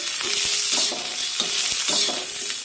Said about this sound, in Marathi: आता या मिरचीसोबत लसूण टाकूया म्हणजे सुद्धा व्यवस्थित यामध्ये भाजला जाईल